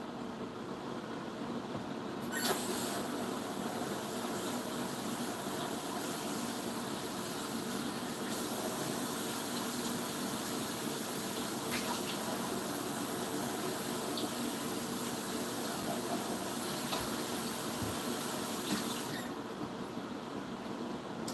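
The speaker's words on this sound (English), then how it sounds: "Rinse this thing off before it ends up being a problem." Water from a tap runs steadily over an air fryer basket or part being rinsed in a kitchen sink, a continuous broadband hiss and splash that holds at a constant level throughout with no voices.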